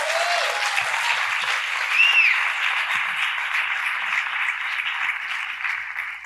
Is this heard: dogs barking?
no